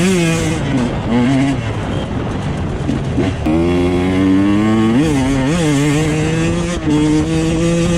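A Husqvarna TE 150 two-stroke dirt bike ridden in a hare scramble race revs with a buzzing engine tone that rises and falls as the throttle changes, close and loud throughout.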